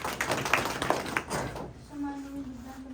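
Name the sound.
children clapping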